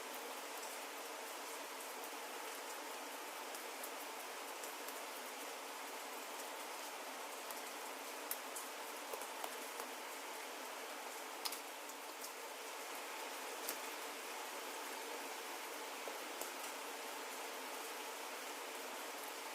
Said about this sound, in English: the gentle rain in the background